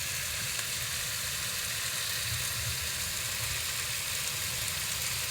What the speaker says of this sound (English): I'm going to whack in the ground beef